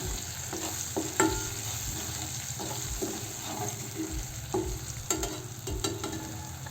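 Chili powder and salt are stirred in a hot pan while cooking soybean bhaji. A soft sizzle continues throughout under repeated scraping strokes of a spoon against the pan, with a few sharper clinks.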